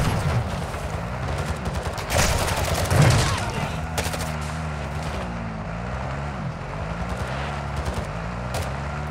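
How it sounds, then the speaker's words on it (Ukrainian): Gunfire from AI bots in Call of Duty: Modern Warfare II Warzone 2.0 DMZ, with rapid sharp bursts and scattered shots over game ambience, and a player talking at times. "О, є, десь тут стріляють."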